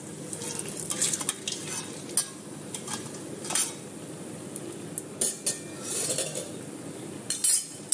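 Vada batter sizzles steadily in hot oil, with a continuous close frying hiss broken by occasional sharper crackles and faint clinks of a utensil, no voices.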